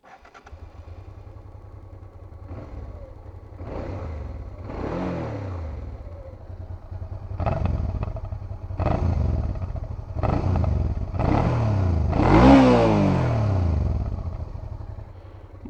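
A 2002 Honda Transalp 650 motorcycle engine revs repeatedly to high rpm in a series of rising surges, loud and close, with a steady idle rumble between bursts.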